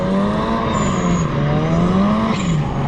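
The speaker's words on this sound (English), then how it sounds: "Turbocharged 4-cylinder." Turbocharged four-cylinder drift car engine on a race track at Atron in Russia, a loud, steady, buzzing drone holding near-constant revs with slight rises and dips, close by and continuous throughout.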